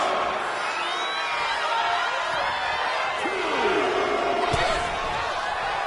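A crowd in a WWE wrestling video game arena cheers and roars continuously, with whoops and a sharp slam rising from the broad wash of noise while a commentator talks over it.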